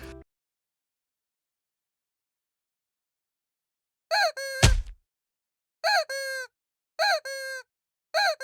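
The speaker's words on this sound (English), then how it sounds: "sound effect of rubber chicken" Rubber chicken sound effect in a video game: after a long silence, a squeaky rubber squawk with a sharp thunk comes, followed by three more separate honking squeals, loud and isolated.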